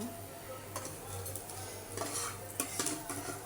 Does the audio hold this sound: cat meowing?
no